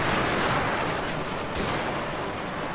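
Gunfire from a Black Bear unit in the video game FOTS, a loud, steady barrage of overlapping shots running throughout with one sharper crack near the middle, no talking.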